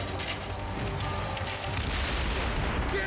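Ship cannons fire in a naval battle in the video game Assassin's Creed Origins, a dense barrage of booms and blasts layered over continuous loud battle noise with no gaps throughout.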